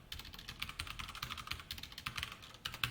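Quiet, close clicking of keys on a computer keyboard as a short word is typed during a JavaScript coding lesson, with irregular quick keystrokes and no speech.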